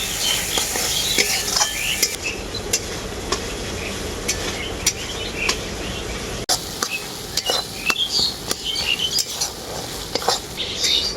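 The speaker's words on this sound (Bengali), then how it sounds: "এরপর আমি এর মধ্যে দিয়ে দেব কেটে রাখা টমেটো টমেটোটাকেও মশলার সাথে খুব ভালো করে কষিয়ে নেব" Chopped tomato sautéed with spices in a pan, a continuous frying hiss under frequent sharp clinks and scrapes of a metal spoon stirring steadily at close range.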